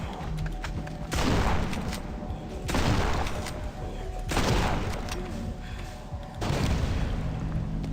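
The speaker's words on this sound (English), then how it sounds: "Oh fuck, it's a shotgun!" A shotgun fires in a video game: four heavy, booming blasts, each with a sustained rumbling tail, spaced a second or two apart and loud in the foreground.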